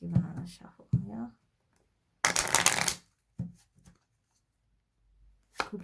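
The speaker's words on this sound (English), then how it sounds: "Let's give another shuffle here." A deck of oracle cards being shuffled, a close, crisp riffling burst lasting under a second in the middle and another brief riffle at the end, with someone speaking softly before and between.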